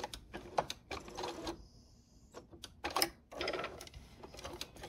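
Sewing machine stitching quilt binding and backstitching over a seam, heard as short close bursts of rapid mechanical whirring broken by brief pauses, alone without talk.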